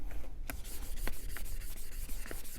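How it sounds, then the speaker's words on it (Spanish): Wet sanding of a Seat 600 / Fiat 600 wheel rim with water, producing a close, steady scratchy rubbing with a few brief sharper strokes throughout. "Entonces vamos lijando, lijando, lijando, lijando y lo iríamos eliminando poco a poco"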